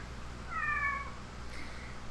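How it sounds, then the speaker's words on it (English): A cat in the Kentucky Route Zero video game gives a single clear meow lasting about half a second, with a faint second call following, set against a low steady background hum. "It's a cat."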